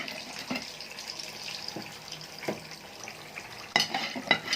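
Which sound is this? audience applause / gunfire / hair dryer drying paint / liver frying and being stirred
liver frying and being stirred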